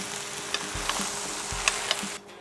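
Ground beef filling with apple and blended tomato cooking in a pan, a steady close sizzle with occasional soft scraping stirs and light clicks, then quieting at the end, with no speech.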